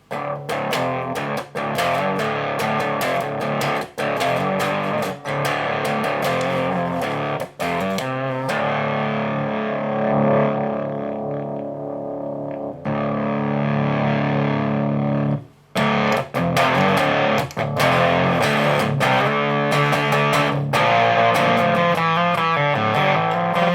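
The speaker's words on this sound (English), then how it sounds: "Fuzz is up full. Actually sounds pretty cool on low gain as well. Let's just crank it up a bit so we can hear it." Electric guitar through a homemade Oil Tanker fuzz pedal with the fuzz knob fully up, loud close distorted chords and riffs with a thick, woolly buzzing tone, one stretch of sustained ringing notes midway, no speech.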